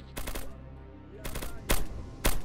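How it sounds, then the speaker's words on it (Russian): A sniper rifle fires in the shooter game S.T.A.L.K.E.R.: Lost Alpha, with several sharp shot bursts spread across a couple of seconds amid faint ambient game noise. "Снайперский выстрел."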